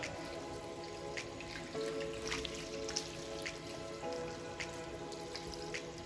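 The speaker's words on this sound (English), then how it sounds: "I'm going to give my green a good bath in hot water" Amaranth greens get washed in hot water in a kitchen, with soft drips, trickles and splashes of water over a steady background hum and a few brief clinks, and no voices.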